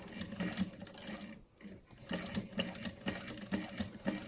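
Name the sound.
sewing machine backstitching on black glitter vinyl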